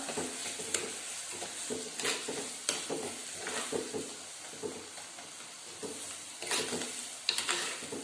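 Four green chillies fry in a clay pot with a steady sizzle, with a spoon scraping and stirring at intervals.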